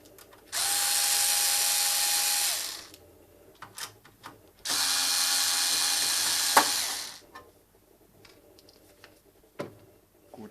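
Power screwdriver whirs twice in long steady bursts, backing out case screws on a Synology DS1815+ NAS, with small clicks and handling clatter between the runs and afterwards.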